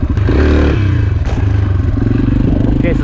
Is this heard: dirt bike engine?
yes